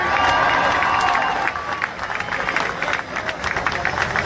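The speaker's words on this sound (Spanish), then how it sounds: "Y del mismo valle, Marina del Pilar, fuerte el aplauso." Crowd applauding and cheering at an outdoor political campaign rally in Playas de Rosarito, Baja California, a loud continuous wash of clapping that fills the whole moment without a clear speaking voice.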